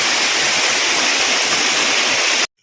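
Floodwater from a risen river rushes over into a garage, a loud, steady broadband roar of churning water that cuts off abruptly near the end.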